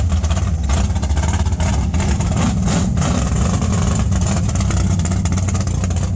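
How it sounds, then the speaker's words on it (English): A drag racing Chevrolet Chevelle muscle car engine revs loud and close, a rough, pulsing rumble with rapid throttle blips and a steady idle beat, no voices over it. "Here's a crazy glimpse of a drag racing Chevelle"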